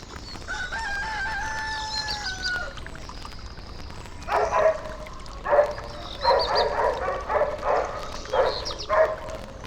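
Several dogs bark in short bursts across the latter half of a farmyard scene, the loud barks coming from close by after a rooster crows at the start.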